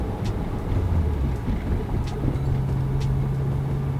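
A 2013 Mazdaspeed3 driven at speed through a corner, its engine and road noise a steady low rumble with a rising drone and occasional faint ticks, no talk.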